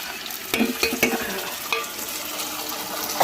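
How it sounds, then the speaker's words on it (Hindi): Tadka tempering sizzles in a pan while being stirred, with a steady frying hiss broken by several sharp scraping strokes of the spoon, close and fairly loud, with no voices. "और इधर मैंने तड़का डाल दिया"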